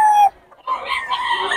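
A rooster crows loudly and close, a single call breaking off partway through before continuing in a strained, ragged tone.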